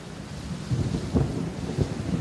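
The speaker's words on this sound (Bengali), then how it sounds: "তখন তুমুল বর্ষণ হচ্ছে।" Heavy rain pours steadily with low rumbling thunder rolling underneath, swelling in a few deeper bursts; no voices.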